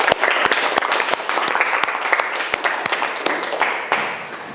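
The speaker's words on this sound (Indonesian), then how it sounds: "Tepuk tangan untuk kita semua." A classroom of students applauding together, brisk uneven hand claps with sharp individual slaps standing out, close and fairly loud, gradually thinning toward the end.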